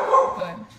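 A pet dog lets out a short bark or yelp indoors, brief and fairly close, overlapping a single spoken word.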